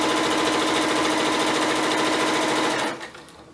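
A sewing machine runs steadily at a long stitch length and high tension, gathering fabric, loud and close with a continuous rapid mechanical whir that stops near the end.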